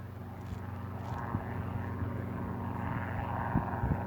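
Small helicopter passing over an outdoor flower garden in Austria on a bright evening, a steady droning engine rumble with a low rhythmic throb, heard from a distance with no talking.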